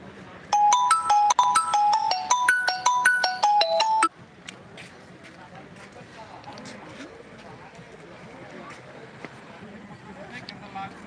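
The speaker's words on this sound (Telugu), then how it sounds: "ఫోన్ వస్తుంది" A mobile phone ringtone chimes for a few seconds at a busy chilli market in Khammam, a bright repeating melody that cuts off abruptly, followed by faint voices and market background.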